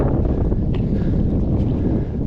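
Strong wind buffets the microphone on a smoky mountain ridge top in northern British Columbia, a loud, continuous low rumble with no voices.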